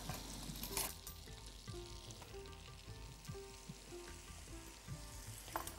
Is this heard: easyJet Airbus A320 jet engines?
no